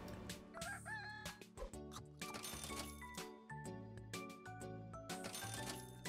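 A cartoonish rooster crows and clucks in the video game Super Auto Pets, with bright, repeated calls over upbeat game music and short coin-like chimes.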